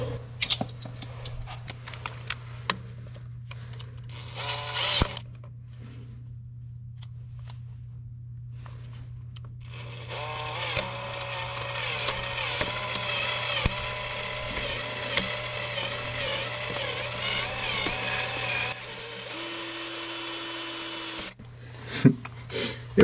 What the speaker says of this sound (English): Gonna make me drill the other side too.